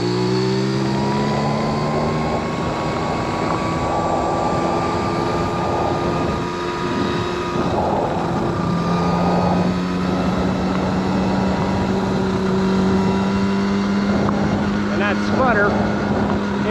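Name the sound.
1979 Honda Express moped engine sputtering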